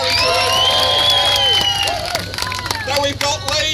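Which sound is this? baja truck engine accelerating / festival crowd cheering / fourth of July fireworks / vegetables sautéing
festival crowd cheering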